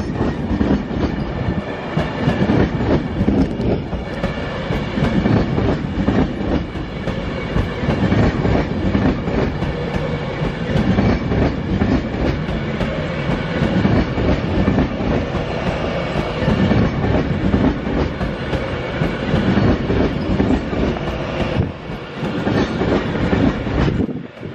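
An Avanti West Coast Class 390 train, unit 390152, arrives at Crewe on a Liverpool Lime Street to London Euston service. A loud, steady rumble of wheels carries clickety-clack rhythms throughout, close by and sustained.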